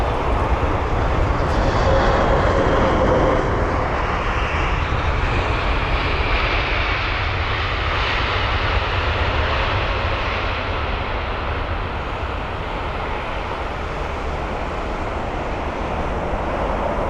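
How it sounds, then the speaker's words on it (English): A Turkish Cargo Boeing 777 freighter jet lands on runway 27R at London Heathrow, its engines giving a loud, steady broadband roar that holds for the whole stretch and eases only slightly toward the end. "So here's the Turkish cargo 777 freighter, runway 27 right for its arrival today."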